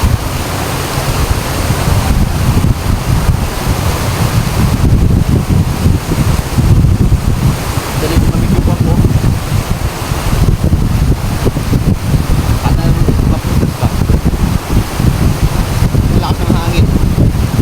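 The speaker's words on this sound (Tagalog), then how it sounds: "Malakas ng hangin, no?" Strong wind and crashing sea waves at a rocky shore with huge boulders. A continuous, loud roar with heavy wind buffeting the microphone throughout.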